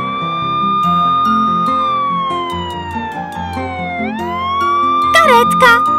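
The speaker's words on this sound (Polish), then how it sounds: "karetka." An ambulance siren in a children's cartoon wails in long sweeping tones, rising and falling smoothly over a bed of playful music, loud and close, with a few quick bright chirping effects near the end.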